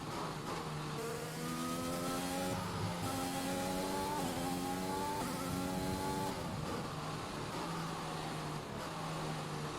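F1 2021 race car in the video game, engine note climbing and dropping through gear changes as it brakes into a corner and accelerates out, a steady buzzing drone with stepped pitch shifts, heard alone.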